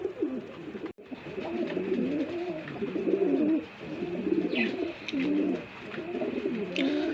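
Rajshahi Girebaz pigeons at a farm coo in repeated soft, throaty bursts close by, overlapping in an uneven rhythm with a faint chirp or two in the background.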